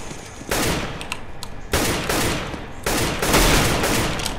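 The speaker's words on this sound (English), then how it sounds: "I'm just shooting manually." Bursts of gunfire in Counter-Strike: Global Offensive, three loud sustained volleys of rapid shots with brief pauses between them, with no talking.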